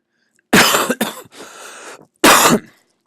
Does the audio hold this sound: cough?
yes